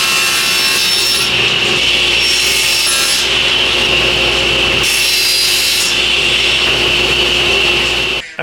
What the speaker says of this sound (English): it's easier for you to make the cuts necessary on this plywood